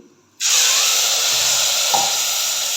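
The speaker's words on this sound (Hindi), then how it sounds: "तो ये 2 मिनट भून लेने के बाद मैं अब इनमें शामिल करूँगी पानी।" Water is poured into a hot pan of roasted vermicelli, bursting into a loud, steady steamy sizzle that starts abruptly and holds for over two seconds with a slight bubbling underneath.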